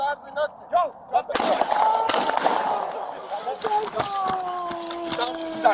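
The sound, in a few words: gunshots fired during police confrontation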